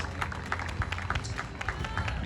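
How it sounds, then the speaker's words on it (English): A large crowd at an outdoor Chanukah celebration at Caulfield Racecourse gives a sustained round of applause, dense clapping spread steadily across the whole stretch with a murmur of voices underneath. "Let's give them a big round of applause"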